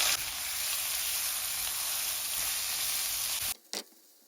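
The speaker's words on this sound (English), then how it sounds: "So I'm going to add ginger and chillies, which I've already grinded." Ginger and chillies sizzle with whole seeds in hot oil, a steady loud hiss that runs unbroken for several seconds before cutting off abruptly, followed by a brief burst of clatter.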